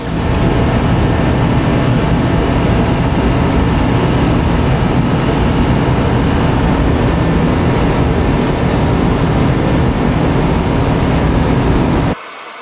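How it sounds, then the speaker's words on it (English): Steady, dense rain pattering on a barn roof overhead, a continuous broadband hiss and rattle with no pauses until it cuts off abruptly at the end. "Excuse the rain noise on the top of the barn."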